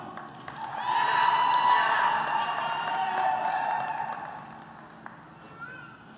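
Sustained audience applause fills a December commencement ceremony for associate degree recipients and other graduates, rising after the first second, holding steady, then fading toward the end with scattered cheers.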